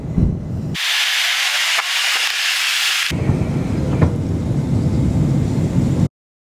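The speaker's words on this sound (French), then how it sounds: "On va essayer de vous montrer quelques images quand même du décollage, c'était pas mal." Airplane engines roar during takeoff with a loud, steady broadband rush and hiss that shifts between a bright, high whoosh and a deep rumble before cutting off abruptly.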